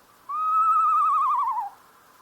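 An owl gives one clear, tonal call lasting over a second, a sustained hoot that wavers into a trill and drops slightly in pitch at the end, close and alone against quiet background.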